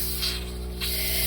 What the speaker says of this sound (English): So everything is pretty much still sputtering.